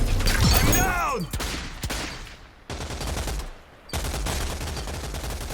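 Pistol fire in the shooter game Rogue Company during a pistols-only match: rapid loud shots with sweeping electronic whines early on, then a steady dense wash of game effects.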